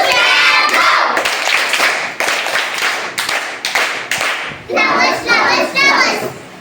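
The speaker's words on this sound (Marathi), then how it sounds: "तुझ्यासाठी सगळ्यांनी टाळ्या वाजवायचा आहे" Children at a Zilla Parishad primary school in Umbarde clap loudly for a classmate's correct quiz answers, a busy burst of hand claps that fades as children's chatter rises near the end.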